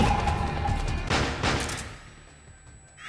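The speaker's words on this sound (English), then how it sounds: "Now we'll probably get some Meryl shooting the wall." A burst of gunfire in the Metal Gear Solid 4 video game as a soldier fires at a wall, loud rapid shots with crashing impacts that die away within a couple of seconds.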